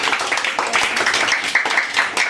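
A group of children claps for a homemade cake at a small celebration, quick uneven clapping filling the room, with some voices mixed in.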